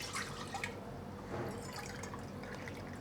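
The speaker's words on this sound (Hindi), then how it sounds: "तो ये 4 कप मैंने इसमें पानी डाल दी हूँ।" Four cups of water are poured into a cooking pot on a gas stove for Gujarati khichu, a steady splashing and trickling stream heard close up and continuing throughout without talk.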